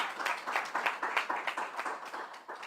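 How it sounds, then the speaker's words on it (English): A small group at a live workshop session gives a round of applause, with rhythmic, moderately loud clapping that pulses steadily throughout. "I think you guys must give yourselves a round of applause."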